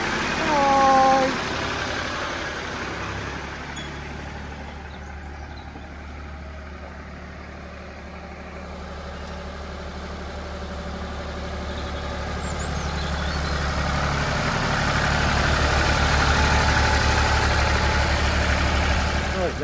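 A Massey Ferguson 1200 tractor's diesel engine idles steadily, then revs louder as the tractor drives off. The engine is close, and a brief voice is heard near the start.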